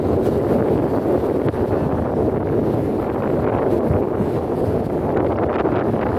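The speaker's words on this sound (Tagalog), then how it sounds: "Paano gumagalaw kasi malakas yung hangin" Strong wind buffets a tourist ferry boat in the Hong Kong harbour, a loud continuous roar of wind across the microphone with low rumbling underneath, no voices.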